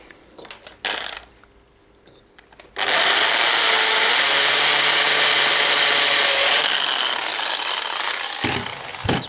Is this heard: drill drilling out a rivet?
yes